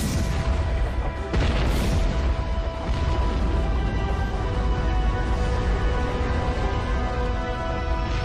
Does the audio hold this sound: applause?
no